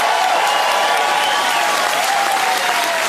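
A studio audience on a television comedy show applauds loudly and steadily throughout, a dense, continuous clapping with no talk over it.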